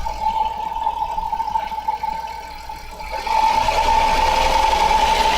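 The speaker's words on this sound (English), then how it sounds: "I hear a tick, tick, tick, tick, but only when revved." A running engine hums with a steady high-pitched tone and a rapid rhythmic ticking that gets louder as the revs rise.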